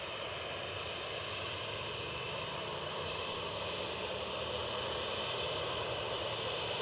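Ryanair airliner jet engines at Edinburgh Airport, a steady, distant broadband roar with a faint high whine, heard alone without talk.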